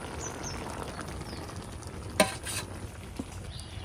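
Papaya curry with fried egg is stirred in a pan, giving quiet scraping and soft sizzle with one sharper clack of the utensil midway.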